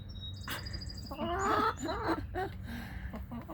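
Backyard chickens cluck and chatter close by, a few short rising calls over a steady low hum, with a brief sharp knock early on.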